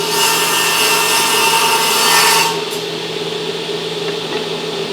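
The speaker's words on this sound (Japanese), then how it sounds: "今これ材を切ったんで" A saw cuts through a wooden board in a woodworking shop, a loud, steady rasping that runs close for a few seconds and then drops to a quieter, continuous hum.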